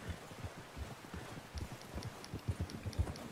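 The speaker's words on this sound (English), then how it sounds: "Arthur, get that horse in line, Arthur." Horse hooves clip-clop at a walking pace on the ground in Red Dead Redemption 2, a soft, fairly quiet run of rhythmic thuds with faint ambient wind behind them.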